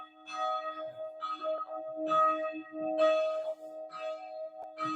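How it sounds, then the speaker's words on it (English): Church bells ring in the Emsland, Germany, with a series of clear, resonant strikes about once a second and long humming tones sustaining between them, moderately distant. "Bells are a thing."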